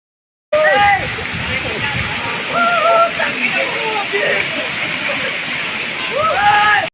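A waterfall pours inside Matangtubig Cave, its steady close roar and splashing running throughout while several people chatter and call out over it.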